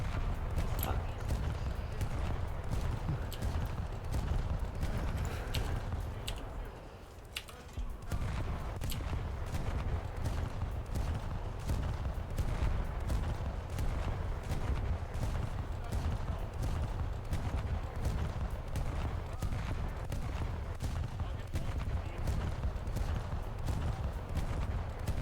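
Secondary guns on the British battlecruiser Renown fire in a naval combat game. Rapid, evenly spaced shots repeat almost continuously for the whole stretch over a steady rumbling background, with a short lull early on.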